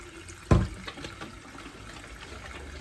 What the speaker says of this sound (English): I am going to wash it first with vinegar